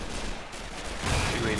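Gunshots ring out in a video game as a short dense burst of firing, loud and close, with a sharper blast about halfway through.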